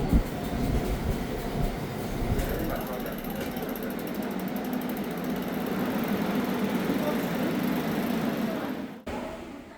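A subway train runs on the line from Seoul toward Yeoncheon in Gyeonggi Province, giving a steady, loud rumble with clacking and rattling heard from inside the carriage, faint talk underneath.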